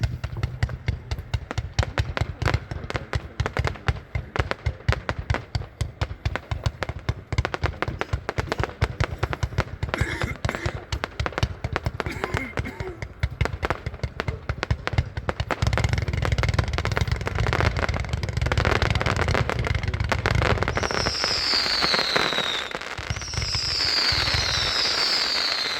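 Window's Amazing Ballet, a 220-shot fireworks cake, fires a long rapid barrage of pops and bursts for about fifteen seconds, then shifts to a denser crackling roar with whistling rising tails near the end, loud and close.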